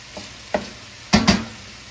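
Chicken, sausage, peppers and onions stirred in a pan for rustic chicken and sausage pasta, with a few soft scraping knocks and then two louder, closer scrapes of the spoon over a quiet background hiss.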